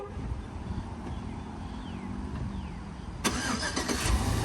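A Chevrolet C10 pickup with an LS engine, started by remote start, cranks and catches at once, a sudden loud burst that settles into a steady rumble after a quiet stretch of low background noise.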